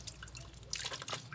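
Tap water runs and drips while something is rinsed clean after scrubbing, a soft close splashing trickle with irregular droplet patter, fairly quiet, no voices.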